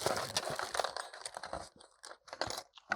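Packaging crinkles and rustles as a Womier WK61 mechanical keyboard box is opened, with irregular crunchy bursts of paper and plastic handled close up, brief pauses between them.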